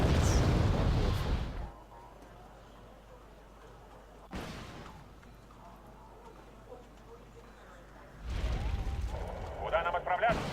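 Incoming artillery in the Wargame Red Dragon video game, a loud rumbling blast at the start and another heavy explosive burst near the end, with quieter crackling between and a voice speaking.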